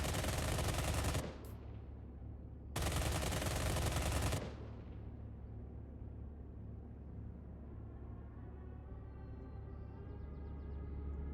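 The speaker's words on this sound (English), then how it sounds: "He takes some pot shots at me. Gets a few hits." Enemy aircraft machine-gun fire in the IL-2 Great Battles flight game, two loud dense bursts of rapid gunfire about two seconds apart, then a steady low engine drone carrying on beneath, close and with no voices.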